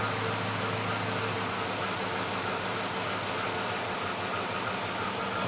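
A 2006 Dodge Charger with a 5.7L engine and a misfire runs steadily at close range, a dense uneven engine hum with faint irregular stumbles.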